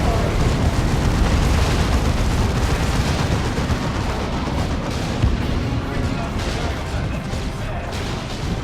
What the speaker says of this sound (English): Oh, Blight Grenades going in,